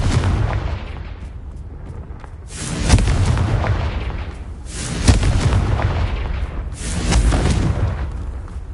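The Confringo fire spell in Hogwarts Legacy bursts in three heavy booming explosions a couple of seconds apart, each swelling and rumbling loud and close over a dense, noisy game background.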